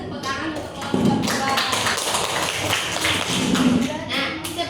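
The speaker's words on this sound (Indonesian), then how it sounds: "Kita beri tepuk tangan untuk kelompok" Classroom students applaud a presenting student group in an Indonesian school lesson, scattered claps and taps mixed with voices and bumps, fairly close and uneven rather than a smooth ovation.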